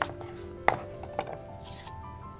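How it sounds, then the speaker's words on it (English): A knife chops peppers and onions on a cutting board while making red beans and rice, with a couple of sharp, distinct chops over a quiet kitchen background. "We are going to chop our peppers and our onions"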